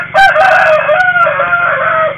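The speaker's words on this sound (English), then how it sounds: "I know your crowing can call the light here." A cartoon rooster crows loudly and close, one long drawn-out cock-a-doodle-doo with a bright, wavering tone, standing alone without talk.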